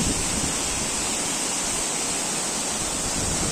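Bambarakanda waterfall, Sri Lanka's tallest cascade, swollen with rain, roars as strong flowing water in a loud, steady, unbroken rush that fills the whole clip.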